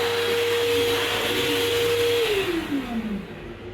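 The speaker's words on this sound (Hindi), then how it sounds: "हैंड ड्रायर भी है।" Hand dryer in the toilet of a Vande Bharat Express train blowing loudly and steadily with a constant whine, then winding down as its pitch drops near the end; no talk.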